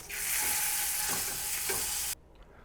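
Beef fillet sears in a hot pan for beef wellington, a loud, bright, steady sizzle with a few soft bumps of movement, cutting off abruptly after about two seconds.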